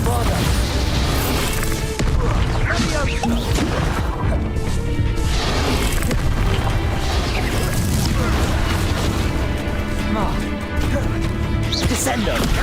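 Bombarda spells explode during combat in Hogwarts Legacy, with dense, continuous crashes, booms and impacts over spell-casting voices and game effects.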